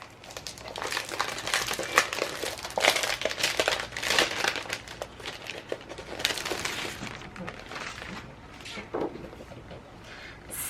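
Sheets of patterned craft paper crinkle and rustle as they are handled in repeated bursts, close and fairly loud, with faint talk in the background.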